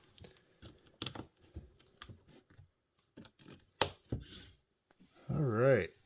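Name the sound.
LEGO 1x2 plates being clicked together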